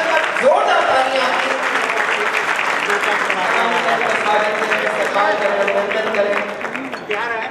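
Loud, continuous audience applause for poet Dr. Anamika Jain in a hall, dense clapping holding steady throughout with a voice faintly present beneath.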